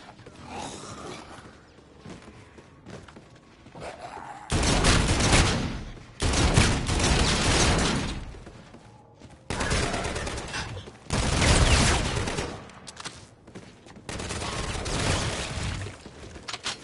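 Bursts of gunfire from a gun in a PS4 game, several loud rattling volleys separated by quieter pauses, with some faint voices in the background.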